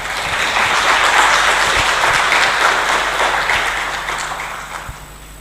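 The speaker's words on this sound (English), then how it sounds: "A round of applause again." Audience applause at a space conference after a talk ends, a loud dense wash of clapping that holds steady, then gradually tapers off toward the end.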